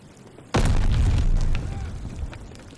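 A frag grenade in the Call of Duty: Vanguard video game goes off with a sudden loud boom and a sharp onset. A rumbling tail decays over about two seconds, with faint debris crackle after it.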